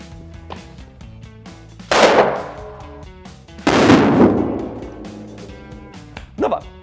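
A homemade toy 'atomic bomb' hung over toothpaste goes off in two loud, sharp bursts a couple of seconds apart, each trailing off in a rough roar, with a small pop near the end over steady background music.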